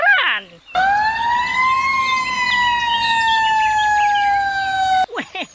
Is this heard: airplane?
no